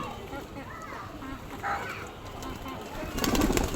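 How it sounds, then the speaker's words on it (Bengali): Pigeons coo on a rooftop in soft, low murmurs mixed with faint bird calls. An indistinct voice and background noise run underneath, growing a little louder near the end. "দেখেন তো আমার কবুতরগুলো কেমন হয়েছে"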